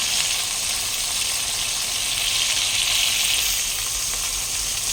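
Ivy gourd (kundri) pieces fry in hot oil in a pan with a steady, close, loud sizzle that goes on without a break.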